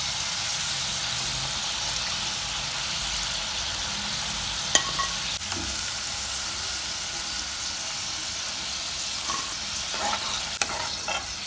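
Potatoes frying in hot oil give a steady, even sizzle and hiss throughout, close and continuous, with a couple of light utensil clicks and no talk.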